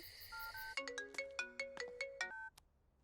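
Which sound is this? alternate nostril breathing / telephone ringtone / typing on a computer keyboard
telephone ringtone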